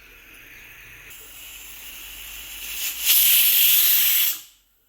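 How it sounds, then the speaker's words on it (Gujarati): Pressure cooker on a gas stove releasing steam with a broad rising hiss, strongest and loudest near the end before cutting off abruptly; no clear whistle tone stands out. "હવે કુકરને બંધ કરી 1 થી 2 જેટલી વિસલ થવા દઈશું."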